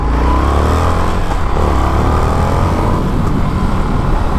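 Indian FTR 1200 Carbon motorcycle accelerating hard in first gear in sport mode, a loud close engine roar climbing steadily in pitch for a few seconds, no voices.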